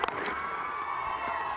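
Crowd cheering and applause at a 2004 India–Pakistan Test cricket match in Rawalpindi, greeting Rahul Dravid's score of 150; a steady, moderately loud wash of distant crowd noise with a few sharp whoops.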